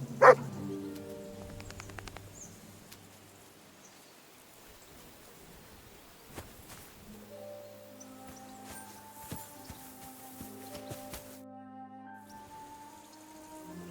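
A dog barks in Kingdom Come: Deliverance II, a sharp burst at the start and then scattered yips over steady rain and soft game music.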